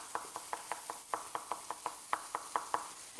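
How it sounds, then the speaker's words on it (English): A knife chops food finely on a cutting board in a home kitchen, a steady run of about fifteen quick, even taps, moderately close and unaccompanied by speech. "So we're going to keep chopping this up till it gets really fine."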